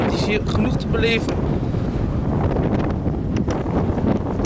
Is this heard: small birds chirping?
no